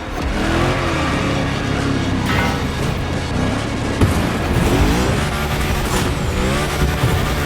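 Hoonigan car in the racing video game Motorfest revving hard and loud throughout, with dense engine roar, rising and falling pitch and tire noise that suggests skidding, continuous with no speech.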